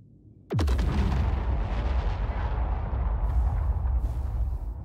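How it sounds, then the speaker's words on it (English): Bomb dropped from an A1 Spirit bomber in Star Citizen detonates with a sudden sharp blast after a quiet moment, then a heavy rumbling roar that lingers and slowly fades over several seconds. "Just dropping another bomb here."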